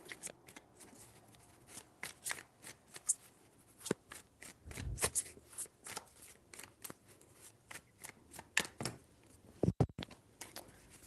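Tarot cards being shuffled by hand, a quiet, close run of crisp riffling and slapping bursts in irregular rhythm with no talking.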